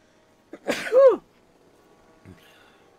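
A single close, loud human sneeze bursts out alone against a quiet background, followed by a brief faint thump.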